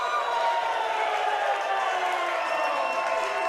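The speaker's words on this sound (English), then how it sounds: "Great reaction for Indi Hartwell here from this crowd at the Haltom Theater" A theater crowd cheers and whoops for a wrestler at a House of Glory wrestling show in Texas, a dense, steady roar filling the whole moment.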